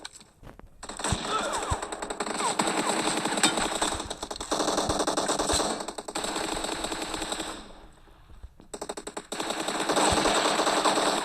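Rapid automatic gunfire in a squad arena shooter game, loud and close, in long sustained bursts with short pauses between them, plus faint player voices underneath.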